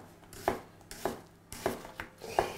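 Knife cutting crosswise through an onion for stuffed peppers, five crisp chopping knocks on a board at a steady rhythm, close and clear with no talk.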